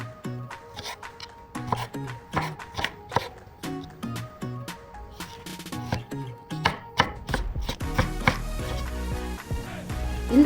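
Knife chopping fresh peaches into small pieces on a cutting board, a steady run of close, crisp taps in quick rhythm that grows denser and busier toward the end, with background music underneath.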